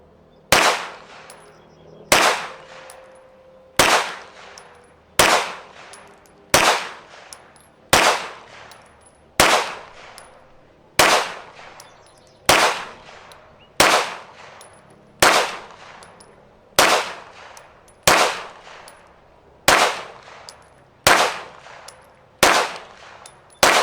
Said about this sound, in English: Here we go with the first shots out of the PDP Pro.